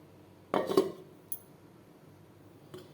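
Metal cookware clatters briefly as a lid goes onto a pot of katla fish cooking with cauliflower, a couple of close clinks followed by a faint later tap in a quiet kitchen.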